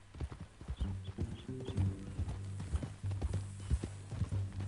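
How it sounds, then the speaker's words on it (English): Horse hooves clip-clop at an even walking pace over a low droning tone, moderately close, in the video game Red Dead. "That new horse?"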